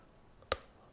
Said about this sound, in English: That was my chair that made that noise.